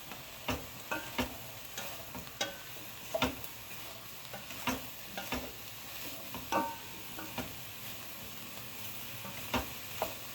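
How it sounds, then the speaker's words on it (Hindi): Sautéed vegetables seasoned with oregano, black pepper, salt and chilli are stirred in a pan, with a low continuous sizzle broken by regular sharp spatula taps and scrapes about every second, close up and without speech. "यहाँ पे मैं इनमें ऑरिगेनो, ब्लैक पेपर, नमक और मिर्च सब डाल रही हूँ। ठीक है, और बस इसको हल्का सा मिक्स देना है।"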